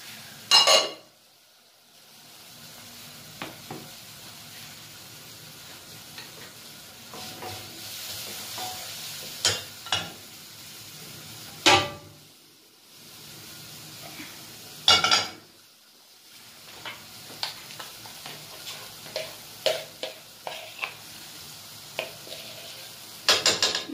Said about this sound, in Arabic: غندير فيها معلقه ديال الزبده، غتهبط غتذوب وغنزيد عليها الدجاج اللي غنطيب